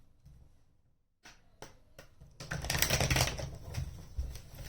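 Tarot cards are shuffled by hand, producing rapid close riffling and flicking bursts that build after a brief pause into a dense, papery flutter, with a single spoken word near the start.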